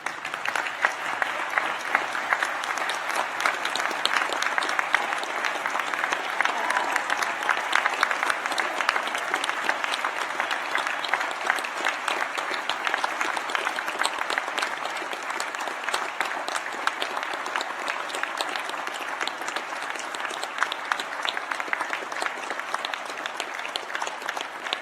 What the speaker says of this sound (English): join me in applauding the wonderful achievements of these graduates